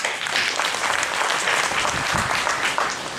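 Private school teachers in an audience clap for themselves, a steady, dense round of applause from many hands that holds level and loud throughout.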